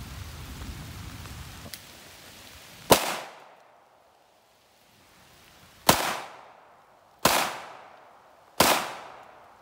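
Four sharp gunshots from a North American Arms Pug mini revolver fired outdoors in the rain, each a loud crack with a fading echo, spaced a couple of seconds apart, with rain patter beforehand.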